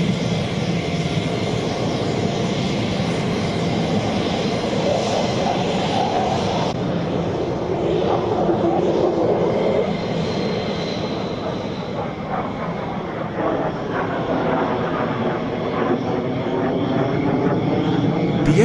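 An F-16 Fighting Falcon fighter jet's engine roars continuously, loud and steady, with a slight shift in tone partway through as the aircraft passes.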